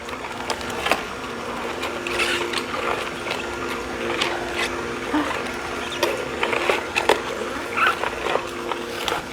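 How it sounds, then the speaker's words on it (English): A juicer machine pressing thick tomato juice gives off a steady mechanical whirring and grinding, with repeated ratchet-like clicks and knocks running through the whole stretch, moderately loud and close with no talking. "I apologize if the noise is loud of the machine."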